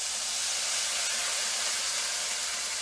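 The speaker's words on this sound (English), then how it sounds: "you can hear the fiddlehead sizzling" Fiddleheads sizzle in a very hot pan after a splash of red cooking wine, a steady bright hiss of frying and steam with no talk.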